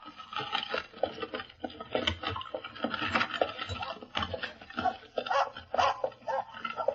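A small dog snarls and barks in rapid, scrappy bursts, close and agitated, mixed with scuffling and a muffled background.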